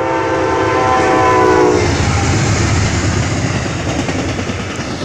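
An Amtrak Coast Starlight passenger train passes southbound on the main track, loud and close. A sustained horn blast opens, then fades into a rushing rumble of wheels and cars.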